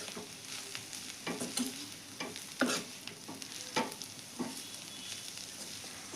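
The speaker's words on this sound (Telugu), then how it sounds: "మంట తగ్గించి చిన్న మంట మీద వేయించాలి దీంట్లో" Cluster beans frying on low heat in a pan, a quiet steady sizzle punctuated by repeated stirring scrapes and clinks, no voices.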